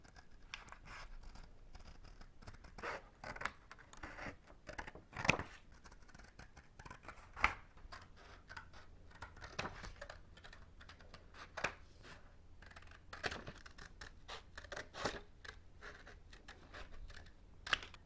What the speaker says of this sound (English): I'll cut the remaining portion of the paper into 7 strips with widths of 1 centimeter,